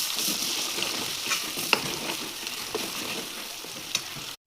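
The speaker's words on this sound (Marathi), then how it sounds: "तेलात हे वाटण टाकून घ्यायचं आहे. याच्यामध्ये कांदा, खोबरा, आलं, लसूण आहे." Ground paste of onion, coconut, ginger and garlic frying in oil for a raw jackfruit curry, a steady close sizzle broken by occasional spatula scrapes and taps.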